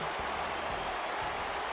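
A WWE 2K19 wrestling arena crowd roars in a steady, broad wash of cheering and applause, loud and unbroken for the whole short stretch.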